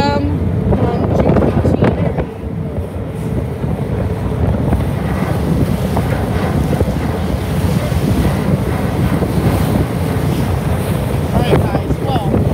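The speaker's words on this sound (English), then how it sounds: "If you're sailing on this ferry right now" Strong wind buffets the microphone on a ferry sailing to Kelleys Island, with waves rushing against the hull in a loud, continuous roar and a person speaking briefly over it.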